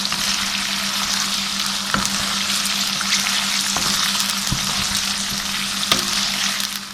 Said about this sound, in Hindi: इसके साथ भी थोड़ा सा फ्राई कर लेते हैं।